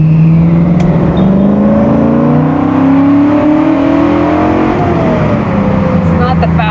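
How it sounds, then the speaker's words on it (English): A Ford Mustang Mach 1 V8 revs loudly inside a small underpass amid traffic, its deep engine note rising and falling in long sustained sweeps that echo off the walls, close and continuous throughout. "A little underpass where we can hear the full regalia of this V8."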